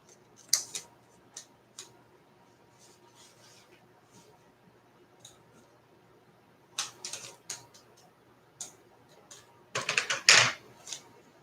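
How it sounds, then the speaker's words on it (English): Scissors snip through paper while a bow is cut out for baby shower treat decorations: scattered short clicks, then denser bursts of close cutting, with quiet gaps between. "I am going to cut out a bow."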